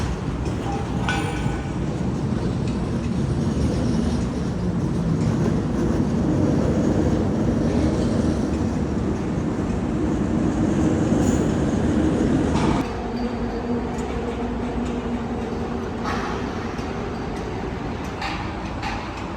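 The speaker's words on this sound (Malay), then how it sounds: "LRT dari tempat parking dia masuk ke stesen." An LRT train rolling from its depot into the station, a close, heavy rail rumble with wheel clatter that cuts to a quieter hum partway through, steady and without voices.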